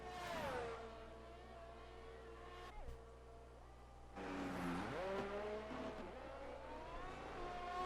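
An F1 car laps Monza in an F1 video game, its high engine whine rising through the gears and dropping on downshifts before climbing again, steady and moderately loud with no voices.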